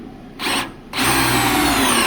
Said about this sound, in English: I put it in speed 1, so this drill would last a little bit longer.